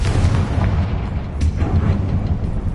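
A Confringo fire-blasting spell in Hogwarts Legacy bursts into a deep, rumbling boom with a crackling, fiery tail that fills the whole stretch at moderate loudness, without any talk.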